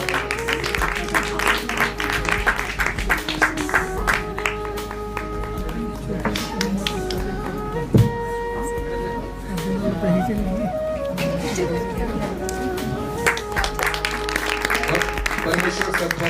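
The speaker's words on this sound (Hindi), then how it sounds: "इनके लिए भी बहुत जोरदार तालियां होगी" An audience at a prize distribution ceremony claps in steady, sustained applause while a voice speaks over it through a sound system.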